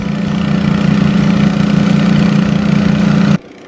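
An engine-driven pump, cranked and running steadily while salvaging a sunken boat, gives a loud, even, low mechanical drone that cuts off abruptly near the end.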